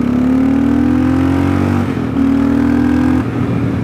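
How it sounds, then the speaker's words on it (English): A 2022 Kawasaki KLR650's big single-cylinder engine with a Yoshimura RS-2 exhaust drones close by at steady revs, giving a deep, even thump with brief dips between two sustained pulls. "Now, it's a big single cylinder thumper"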